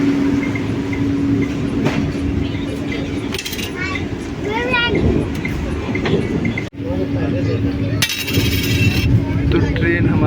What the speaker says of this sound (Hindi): तो ट्रेन हमारी हरदोई रेलवे स्टेशन निकल रही है